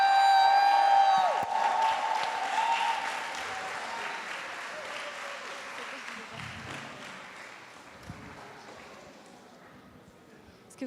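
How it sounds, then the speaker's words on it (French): Audience applause at a gospel concert, a dense wash of clapping with some cheering that starts loud and slowly fades over several seconds, with a singing voice briefly at the start. "un tonnerre d'applaudissements s'il vous plaît"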